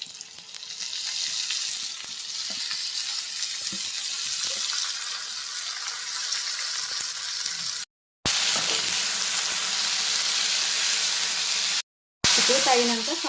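Strong steady sizzle of freshly washed tender tamarind leaves frying in a pan with turmeric for a small-fish curry, hissing continuously with two brief cut-outs and a voice briefly audible at the end.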